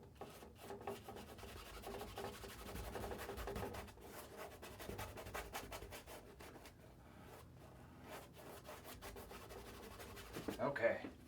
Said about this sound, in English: Kind of scrub that color in.